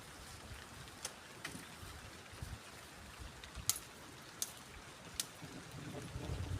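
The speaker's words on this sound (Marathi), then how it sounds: "रिमझिम रिमझिम पाऊस पण चालू झालाय।" Light drizzle falls steadily outdoors in rural Konkan, a soft, faint continuous patter with a few sharper drips and ticks scattered through it.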